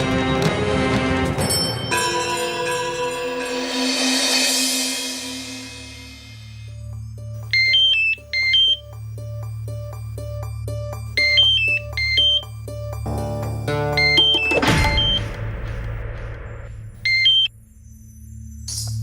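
A phone rings with a repeating electronic tone in short bursts at regular intervals, set against a dramatic music score with swells and a sharp hit, with no voices over the ringing.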